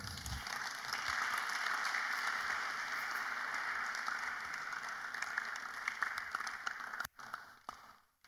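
Steady audience applause fills the room for several seconds at a Bible study event, a dense even patter of clapping that thins and fades out at the end.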